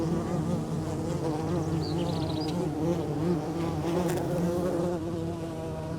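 Copolicana bees drone steadily around their tiny colony near a burrow, a continuous close buzzing with no voices.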